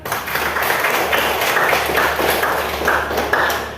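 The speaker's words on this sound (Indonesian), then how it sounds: "Oke, tepuk tangan." A classroom group claps together in a dense, steady burst of applause lasting a few seconds, close and fairly loud, with no speech over it.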